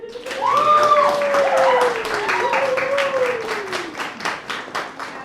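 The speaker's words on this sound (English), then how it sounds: "so applause for Harral's bio" An audience applauds steadily with a dense run of claps, while cheering voices and whoops rise over the clapping before it fades out.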